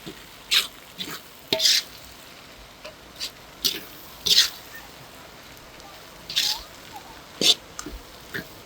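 Vegetables stir-fried in a pan for kothu roti, with short sharp scraping and clattering strokes at an irregular pace over a quiet background.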